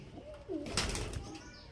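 A pair of pigeons, one green and one Jag, give a soft low coo up close, followed by a brief rustle or flutter in a quiet room.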